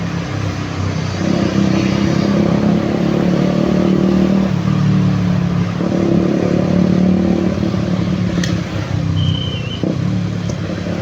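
A loud, rumbling motorcycle with an aftermarket exhaust drones steadily nearby, its pitch stepping up and down with the throttle over continuous road noise.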